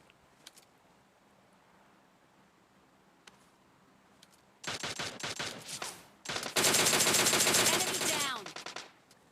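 Automatic gunfire from DP and M4 guns in PUBG Lite erupts in a rapid burst, then a longer, louder sustained volley after a few scattered faint shots and a quiet stretch.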